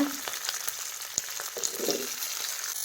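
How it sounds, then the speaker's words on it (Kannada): Chopped onions with curry leaves frying in hot oil for a Karnataka-style holige sambar, a faint, steady sizzle spiked with sharp little pops and crackles. "ಕರಿಬೇವು ಸೊಪ್ಪನ್ನ ಹಾಕ್ಕೊಳ್ತಾ ಇದ್ದೀವಿ. ಚಟಪಟ ಅಂದಮೇಲೆ ನಾವು ಇದಕ್ಕೆ ಹೆಚ್ಚಿದಂಥ ಈರುಳ್ಳಿನ ಹಾಕ್ಕೊಳ್ಳೋಣ"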